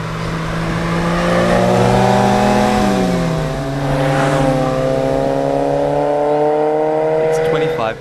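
A Fiat X1/9 drives along the Adelaide to Lobethal Road on a summer day. Its engine hums loudly and steadily close by, and the pitch rises and then shifts with gear changes.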